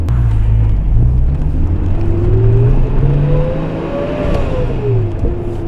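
A right-hand drive car's engine accelerates while driving, a loud steady drone from inside the cabin with the pitch rising smoothly as the revs climb, then easing off.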